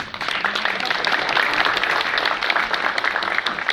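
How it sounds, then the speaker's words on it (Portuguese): School directors receive applause from the audience at an education forum, a loud, sustained burst of many hands clapping together with no pause. "Uma salva de palmas para todos os diretores"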